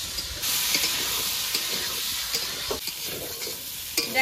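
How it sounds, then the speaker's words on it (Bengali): Potatoes being stir-fried in a pan with ginger paste, dried chilli paste and turmeric, steady close sizzling broken by scraping stirs and clatters of the utensil. "আদা বাটা শুকনো লঙ্কা বাটা আর হলুদ দিয়ে ভালো করে আলুটাকে কষিয়ে নেব।"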